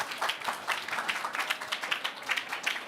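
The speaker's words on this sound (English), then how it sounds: "Please welcome her with a round of applause" An audience at a high-level climate policy event applauds to welcome a speaker to the stage, moderately loud clapping that ripples steadily throughout with a slightly uneven rhythm.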